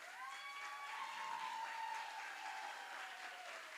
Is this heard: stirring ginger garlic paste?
no